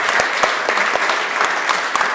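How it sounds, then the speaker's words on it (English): Applause from a panel audience in a theatre at the close of a session, a steady dense wash of hand claps with a few sharper individual claps standing out, continuous and fairly close throughout. "and a well-deserved applause"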